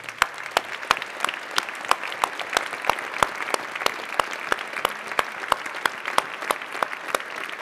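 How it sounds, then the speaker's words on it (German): Audience applause at a startup demo day: sustained, even clapping from a crowd throughout, close and steady with distinct sharp claps standing out at a regular pace. "Und dieser Applaus geht jetzt zu den Unterstützern des Circular Valley."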